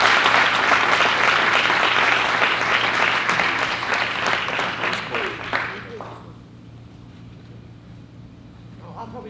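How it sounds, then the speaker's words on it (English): An audience at a public event for a Connecticut state treasurer claps in warm, dense applause that fades out after about six seconds into quiet room tone. "Give her a nice applause, everybody."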